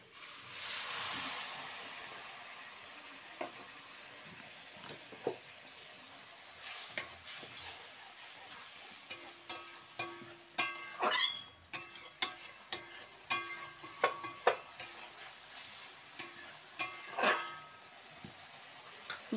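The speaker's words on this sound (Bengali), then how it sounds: "ভালো করে কষিয়ে নেব।" Vegetarian fish curry masala sautéing in a pan, a soft steady sizzle under scattered scraping and knocking stirring strokes that grow busier and louder toward the middle and the end.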